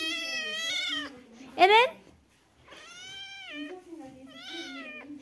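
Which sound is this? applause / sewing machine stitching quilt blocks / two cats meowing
two cats meowing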